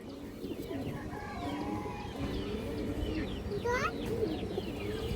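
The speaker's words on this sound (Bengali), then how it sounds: "এক হাত ছাদের কবুতর এবং খুবই চঞ্চল কবুতর" Rooftop pigeons, lively high-flyer birds, coo and murmur steadily nearby amid a busy flock chorus, with occasional sharper bird calls rising over the low burbling throughout.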